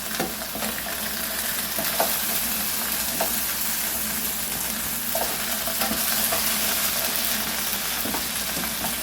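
Pasta sauce with sausage and vegetables cooking in a pot, a steady soft sizzle and bubbling with occasional scraping of a spoon stirring, close and without talk.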